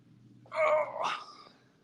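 A house cat gives one short, close meow that rises and then bends in pitch, with quiet room tone before and after.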